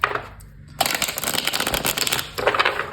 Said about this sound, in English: So before we begin, I'm going to shuffle.